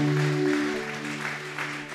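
Church congregation clapping together as an offering of praise to God, a dense wash of applause that starts under a fading held musical tone and continues steadily at moderate volume.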